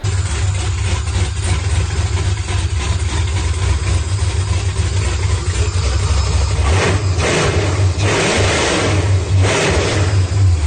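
A 4.8-litre LR4 V8 car engine, loud and close, holding a rough, steady idle before it is revved hard several times near the end.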